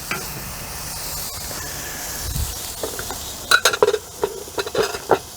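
Tri tip (bottom sirloin) steak searing on the hot side of the cooking surface just after being flipped, a steady soft sizzle and hiss with a few sharp clicks and scrapes near the end.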